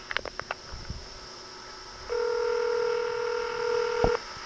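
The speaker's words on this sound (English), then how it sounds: "You may dial 9 at any time to repeat this message." Telephone keypad DTMF dialing tones on a court clerk's voicemail line: a quick run of short beeps at the start, then one long steady dual tone lasting about two seconds, fairly loud and clear over faint line hiss.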